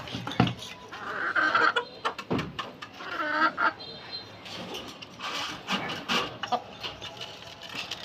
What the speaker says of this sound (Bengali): আর নিচের সেলফে রেখেছি মুরগি, মুরগিগুলো ডিম দিচ্ছে।